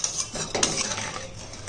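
A spoon stirs ghee into dhokar dalna in a cooking pot, giving brief close metallic scrapes and clinks against the pan, busy and fairly loud with no voices.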